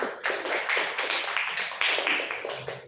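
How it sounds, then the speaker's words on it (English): A room full of people at a Toastmasters club meeting applauding the speakers, steady dense clapping that carries on throughout before starting to thin out. "Let's give a round of applause for all the speakers."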